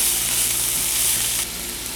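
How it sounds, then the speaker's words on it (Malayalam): Tomatoes frying and being stirred in a pan for vegetable macaroni, a dense, loud, close sizzle with a rough stirring texture throughout a short stretch. "അതിന് കൂടെ ഇനി നമ്മൾ തക്കാളി കൂടി ഇട്ട് ഇളക്കി."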